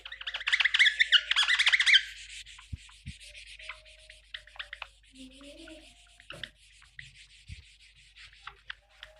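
Eraser rubbing out written working on paper during a maths lesson, a burst of dense scratchy rubbing at the start, then quieter intermittent scrapes and small taps, no talking.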